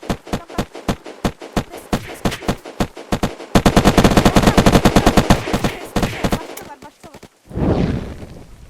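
Rapid gunfire during a base raid in a video game, with bursts of single shots followed by a dense sustained volley, loud and close, ending in a short roar.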